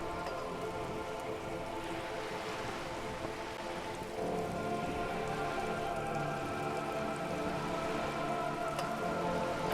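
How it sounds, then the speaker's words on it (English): Steady rain falls on wooden boards and open water in Disco Elysium, a continuous dense hiss of drops with no speech, holding even throughout and growing slightly fuller partway through. "All around you, rain keeps falling down. On the wooden boards she's standing on, and on the water around you."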